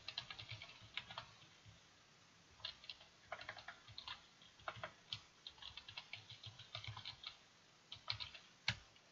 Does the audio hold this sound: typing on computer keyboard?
yes